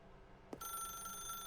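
A telephone rings in The Stanley Parable, a single sharp burst of electronic tone that starts abruptly and holds steady, alone without talk.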